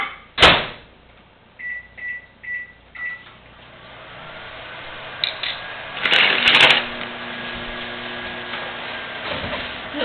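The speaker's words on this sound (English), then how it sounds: "now we're going to put our topping mixture in the microwave for about 20 seconds" A microwave oven heating creme brulee topping in a mug: a door thump and several button beeps, then a steady low hum as it runs, with a couple of clicks and rattles along the way.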